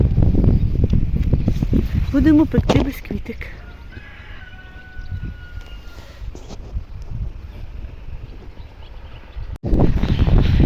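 Strong wind gusts across a spring garden and vegetable plot, a steady low roar buffeting the microphone while someone talks over it.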